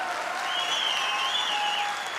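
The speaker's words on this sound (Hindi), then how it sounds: "एक जोरदार तालियां होनी चाहिए।" A large audience at a motivational success speech event in Pune gives loud, sustained clapping. A thin whistling tone rides over the steady roar.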